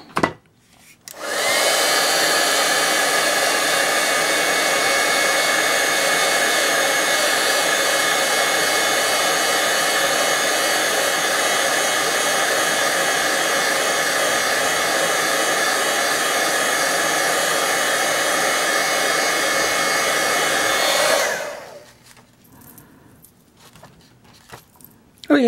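A hair dryer switches on and blows steadily at close range for about twenty seconds, drying lip butter, then cuts off abruptly, leaving quiet handling noises.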